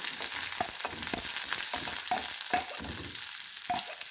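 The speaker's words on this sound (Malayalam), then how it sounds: "കടുക് പൊട്ടിക്കഴിഞ്ഞു സബോള ഇട്ട്" Onion sautéing in hot oil after mustard seeds have popped, a steady close sizzle with intermittent stirring scrapes and soft clatters of the spoon against the pan.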